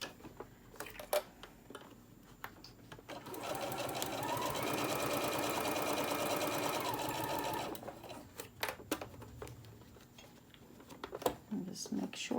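A sewing machine runs a steady back stitch on a cross-body phone bag, whirring evenly for several seconds, close and moderately loud, framed by clicks and handling noises.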